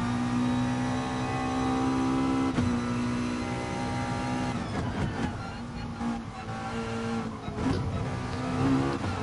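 In a racing video game, a race car engine holds high revs in second gear and bounces off the rev limiter in a buzzing, stuttering whine, with brief surges and dips.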